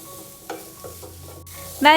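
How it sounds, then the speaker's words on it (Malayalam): Pav bhaji masala being sautéed with onion and capsicum in a pan: a soft, steady sizzle broken by a few scraping stirs and a sharp clatter at the end. "ഇത്രയും ചേർത്ത് കൊടുത്തതിന് ശേഷം വീണ്ടും നല്ലതുപോലെ നമുക്കൊന്ന് വഴറ്റി കൊടുക്കണം."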